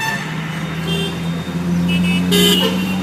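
Hyderabad road traffic rumbles close by with engines droning, and a car horn toots briefly near the end over the busy street noise.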